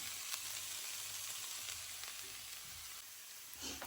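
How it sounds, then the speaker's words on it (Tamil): Green beans with grated coconut frying in a pan, giving a steady, close, continuous sizzle throughout with no talking. "இந்த பீன்ஸ் நல்லா வறுபட்டுட்டு நாங்கள் இப்போ இறக்கி அதை ஒரு டிஷ்ஷில் வைப்போம்"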